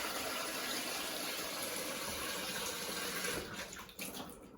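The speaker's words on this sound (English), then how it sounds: "So our titanium cooking set, our very expensive cooking set, pour water" Water pours steadily into a titanium cooking pan, a dense continuous splashing rush held close and loud, easing slightly near the end.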